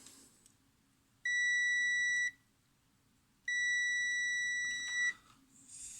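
A multimeter gives two sustained high-pitched electronic beeps, each about a second or more long, separated by a short pause, over a quiet background.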